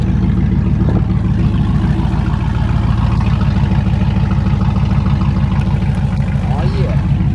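A tractor engine idles loudly and close, a steady low throbbing drone that holds evenly throughout, with a voice talking faintly over it.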